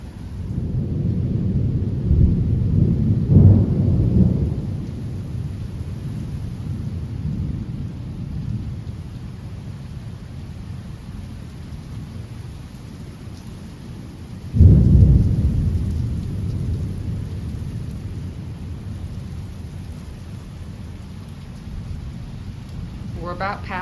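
Severe thunderstorm with high winds and rain in Frisco, Texas: steady rain hiss throughout, broken by two loud, booming thunder rumbles near the start and around the middle that slowly fade back into the downpour.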